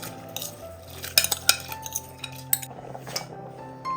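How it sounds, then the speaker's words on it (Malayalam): Raw rice is stirred with a utensil in a pot of boiling water, giving a run of light clinks and scrapes against the metal, close and irregular, with no talking. "ഒന്ന് ഇളക്കി കൊടുക്കാം."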